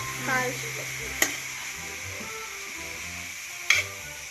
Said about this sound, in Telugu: మంచిగా నెయ్యిలోనైతే కలుపుకోవాలి.